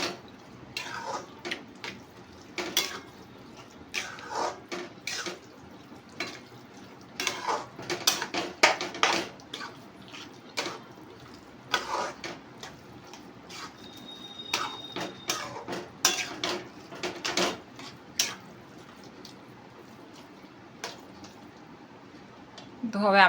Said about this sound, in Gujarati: આ ઇલાયચી પાવડર એડ કરીશું અને બધી વસ્તુ આપણે મિક્સ કરી દઈશું